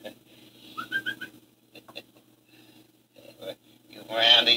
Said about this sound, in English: Hey, that's a pretty bird.